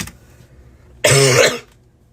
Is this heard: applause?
no